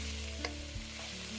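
Vegetables for schezwan fried rice hiss and crackle as they are stir-fried over a high flame, with a quick spatula scrape in the middle of the steady sizzle; no talking.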